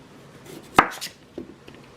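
A knife trims the ends off Brussels sprouts on a cutting board, with one sharp close chop followed by a couple of softer cuts.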